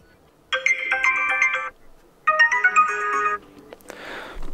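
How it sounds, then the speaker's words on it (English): A pre-installed system ringtone plays on a VIVO V20 SE phone: two bright electronic melodic phrases with a short gap between, loud and close, followed by a brief rustle. "I'm just gonna pick one of these pre-installed ringtones."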